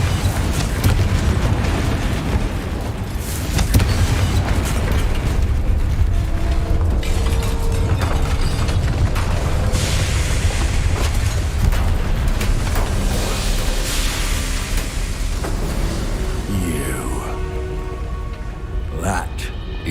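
Fiery Confringo spell blasts in the game Hogwarts Legacy boom and rumble amid dense, continuous battle noise, with a voice talking over the clamour.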